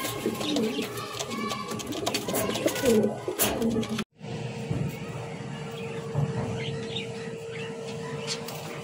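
Racer pigeons coo in a steady low drone at close range, with a busy clatter of other noise early on and a brief dropout partway through.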